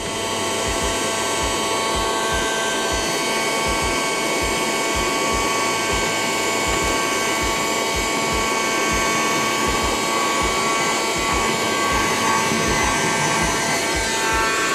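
A Ryobi USB lithium handheld vacuum runs with its crevice tool fitted, giving a steady, loud, close whine with a rapid rattling pulse throughout and no talk.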